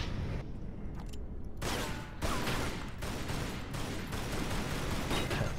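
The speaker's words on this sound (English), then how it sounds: "Shooting everywhere but there, Laura." Dense, continuous gunfire in the video game Tomb Raider Anniversary, a loud volley of shots running throughout with brief gaps and bursts, no voices.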